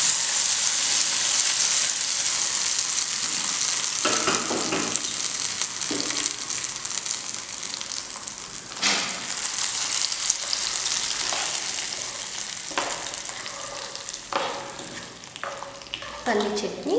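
Hot tempering poured into peanut chutney sizzles and crackles steadily for the whole stretch, loud and close, with a few stirring clinks and scrapes and no voices.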